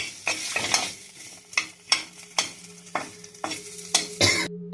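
Chicken frying and being stirred in a pan at home, with loud scraping stir strokes repeating every half second or so over a steady sizzle, close and alone without talk.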